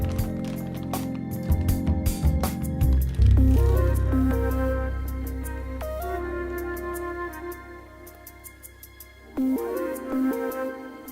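A beet and fresh goat cheese mixture squelches out of a piping bag, with soft wet squishes and sticky pops. Around these comes a tonal, pitch-sliding background, loudest near the start.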